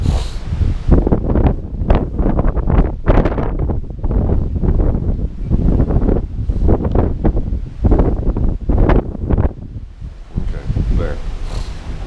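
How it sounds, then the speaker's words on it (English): Strong wind buffets the microphone in continuous rough gusts on a boat deck, loud and blustery, with voices talking underneath. "But it's gonna be windy as hell."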